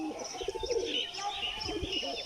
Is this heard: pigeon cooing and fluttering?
yes